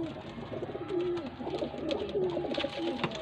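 A breeder pair of pigeons at a Faisalabad loft coos steadily, with soft repeated rolling calls close by over faint background noise.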